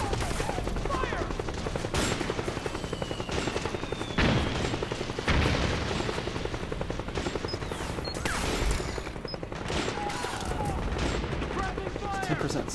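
Rapid gunfire bursts from the video game Metal Gear Solid 4: Guns of the Patriots, crackling in quick volleys with booming hits, dense and loud throughout a chaotic firefight, with some game voices mixed in.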